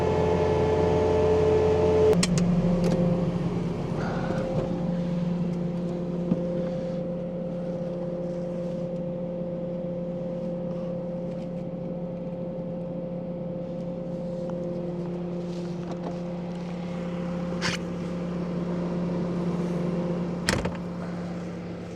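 A Bobcat T66 track loader running a snowblower in a foot of snow, a steady loud engine drone with a constant whirring tone and brief clunks, heard close.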